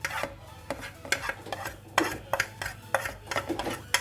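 Pearl spot fish, half a kilo, gets mixed by hand with spice masala on a plate, producing a rhythmic series of close wet squelches and scrapes, each stroke clearly separated, with no talking.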